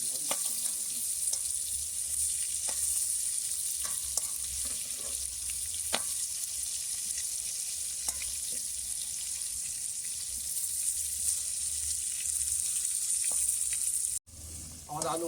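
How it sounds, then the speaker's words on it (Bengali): Potatoes seasoned with turmeric and salt fry in a pan over an outdoor picnic cooking fire, giving a continuous close sizzle with occasional sharp clicks from stirring. "এখন আলু ভাজা হচ্ছে"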